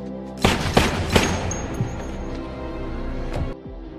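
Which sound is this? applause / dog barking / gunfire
gunfire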